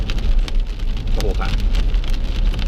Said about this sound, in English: the rain would subside for a couple of minutes and then it would just come back full on crazy